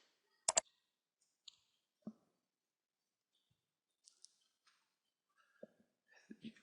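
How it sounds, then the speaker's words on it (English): A computer mouse clicking a search button: a sharp double click near the start, then scattered lighter clicks and taps, close and isolated against near silence. "After clicking on the search button"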